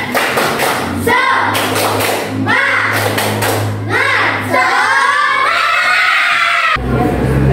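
A class of children claps in a loud rhythmic pattern, an Indonesian spirit clap, bursts of hand claps mixed with thumps and children's voices calling along.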